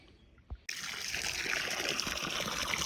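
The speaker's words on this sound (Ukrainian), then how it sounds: "І ще проливаємо ми так гарно по 10 літрів 20 водичкою" Water gushes steadily from a container onto spring grapevines, a close, continuous splashing pour that starts abruptly after a brief thump and keeps running without pause.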